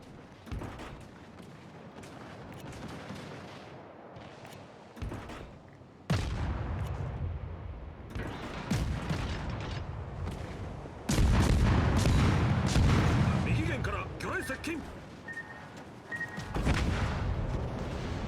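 Artillery booms and gunfire rumble through a naval battle video game as heavy shells land on a designated target, with repeated loud blasts and rolling explosions building toward the end.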